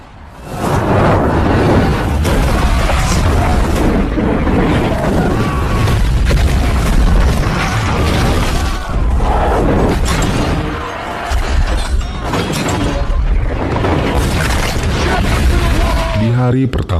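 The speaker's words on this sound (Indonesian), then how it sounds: "Raja Saladin menyerang istana itu dengan hantaman bom katapul." A catapult bombardment pounds stone fortress walls during the siege of Jerusalem, with loud, repeated booms and crashing impacts rolling almost without pause and voices mixed into the din.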